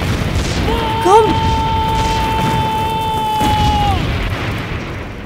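Artillery cannons fire in a war film set during the resistance against Japan. A loud thump lands under a long, sustained whistling tone that bends downward as it fades, over a constant low rumble.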